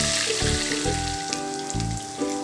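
Pieces of tilapia fry in hot oil with a continuous, crackling sizzle, while a rhythmic tonal layer, probably background music, pulses over it.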